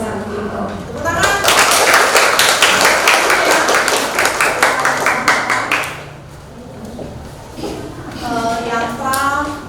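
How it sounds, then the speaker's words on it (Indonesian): A class in a teaching-practice lesson on Balinese yantra bursts into hand clapping, a busy patter of claps mixed with voices, then fades as talking continues. "Tepuk tangan."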